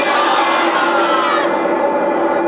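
A large crowd at an outdoor waaz gathering in Magura answers a takbir call, a loud, sustained mass chant of many voices blending into one continuous roar.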